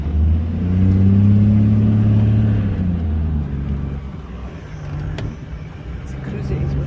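A 4x4 vehicle engine runs in low range on a sandy pan in Mabuasehube, a steady close mid-pitched drone that swells early on and then settles to a lower hum, with a voice talking over it.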